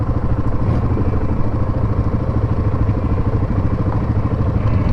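Motorcycles rumble steadily on a coastal road near seaside restaurants, a loud continuous engine drone with rattly clatter that holds close and even for the whole stretch, with no talking.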